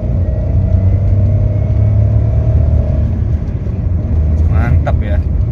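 A car fitted with an Apex aftermarket air filter pulls hard in third gear, its engine a steady, loud low drone heard from inside the cabin, with a murmured voice underneath.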